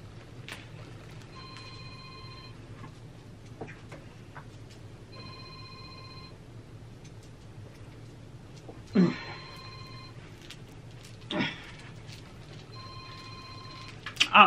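A telephone ringing indoors, four evenly spaced electronic rings, each about a second long, heard clearly at moderate volume with a few soft knocks and handling noises between them.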